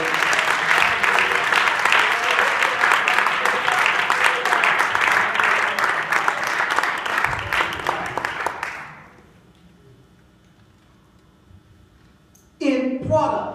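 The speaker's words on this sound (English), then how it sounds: "Let's clap our hands unto the Lord." A church congregation at a Tuesday Bible study claps hands together in a loud, fast, sustained rhythm for about nine seconds, then falls quiet before a voice speaks.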